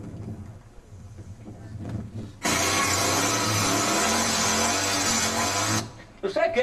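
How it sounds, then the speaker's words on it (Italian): A Honda VT500 motorcycle engine roars loudly and steadily for a few seconds, a sustained dense drone that cuts off abruptly, with talk before and after. "Questa lì è la VT500. Senti che motore."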